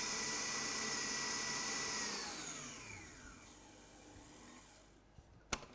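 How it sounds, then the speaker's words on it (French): An electric mixer whips egg whites toward stiff peaks for a floating island dessert, a loud steady whir that holds for two seconds then slowly drops in pitch as it winds down and stops, followed by a couple of sharp clicks. "je vais pouvoir laisser tourner encore environ 2-3 minutes pour bien serrer mes œufs, mes blancs en neige"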